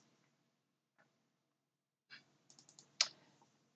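Typing on a computer keyboard, faint and sparse at first, then a short cluster of quick, close key clicks ending in one louder tap in a quiet room.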